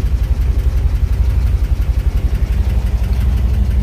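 A VW bus engine on dual Weber ICT 34 carburetors idles steadily and a little low while still cold, a loud, continuous low rumble with an even, slightly lumpy pulse and no talking.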